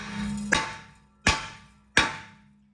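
A mini sledgehammer strikes a 2016 Equinox Terrain's front wheel hub to loosen a stuck brake rotor. Three loud, sharp metallic whacks land at a steady pace, each one ringing briefly before fading, with no voices.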